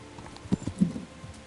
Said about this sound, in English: My trusty horse!